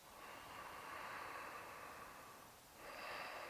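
Slow ujjayi breathing, the ocean-sounding breath made through a slightly constricted throat, with a long airy rushing exhale, a short pause, then another breath, close and steady.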